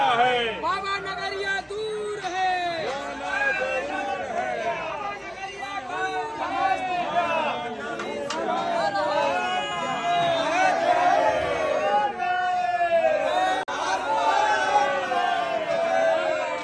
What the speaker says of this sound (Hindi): देखो वो डहार बहुत ज्यादा भीड़ है